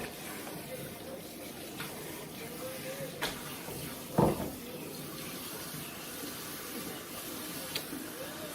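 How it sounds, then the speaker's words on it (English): Tap water runs into a kitchen sink while raw steak is rinsed under it, a steady low wash with a brief louder splash partway through. "So now I just rinse this off a little bit more."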